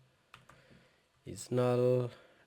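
Quick clicks of typing code on a computer keyboard for a Pandas data-handling task, a few close, light taps followed by a short voiced sound.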